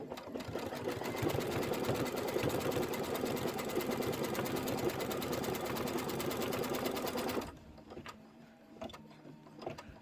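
A sewing machine quilting and tacking down fabric runs at a fast, even needle rhythm for most of the stretch, close and steady, then stops abruptly, leaving faint handling clicks.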